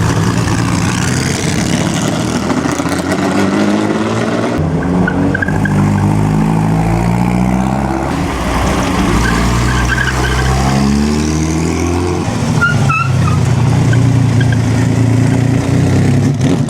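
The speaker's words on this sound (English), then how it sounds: "Oh, here's a big mean Ferrari here." Ferrari race car on the Mille Miglia road race, its engine revving loud and close with a continuous roar that rises and falls in pitch, tires squealing in places and no voices over it.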